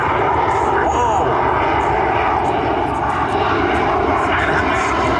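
A jet aircraft engine roars continuously and loudly at an airshow, a dense, unbroken broadband rumble with no pauses throughout.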